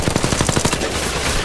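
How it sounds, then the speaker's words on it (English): Rapid automatic gunfire from the video game Apex Legends Mobile, a loud close burst of quick shots that stops partway through. "Another squad is attacking us!"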